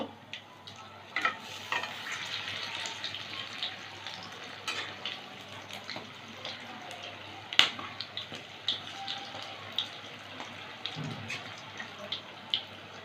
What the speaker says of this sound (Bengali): মাখিয়ে নিয়ে ভাজবো এইভাবে তুলে নিয়ে ভাজবো কড়াইতে সাদা তেল গরম করে নিয়েছি